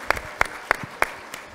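Four or five short, sharp claps in a steady rhythm, sounding like a small audience at a children's traffic safety event applauding briefly and close by, with no talking.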